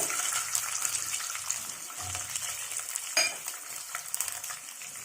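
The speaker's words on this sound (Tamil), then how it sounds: "இதெல்லாம் நல்லா பொரிஞ்ச உடனே ஒரு 20 பல்லு பூண்டு எடுத்து வச்சிருக்கேன், உரிச்சு வச்சிருக்கேன், அதை ஆட் பண்ணிக்கோங்க." Peeled garlic cloves and spices frying in hot oil for Tamil sundakkai kulambu, a steady close sizzle with a brief louder crackle partway through and no talking.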